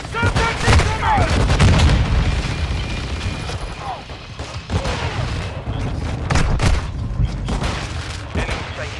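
Semtex grenades blast amid chaotic gunfire in a Call of Duty Modern Warfare 2 match, with repeated sharp shots and booms over a dense, loud background and game voices calling out over the battle.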